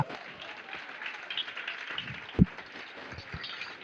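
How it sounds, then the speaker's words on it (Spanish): Steady applause from a crowd, fairly faint and continuous, with one louder thump partway through. "Aplauda la gloria"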